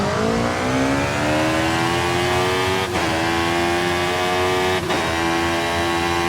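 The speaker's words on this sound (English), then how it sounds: "It sounds just like a motorcycle." A motorcycle engine in Forza Horizon 5 heard from the rider's view, steadily accelerating with a rising whine and two quick gear shifts.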